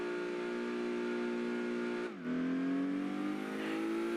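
Race cars in Gran Turismo 2, including a Calibra, with a steady high-pitched engine whine that drops sharply at a gear shift and then climbs again, loud and continuous with no talk.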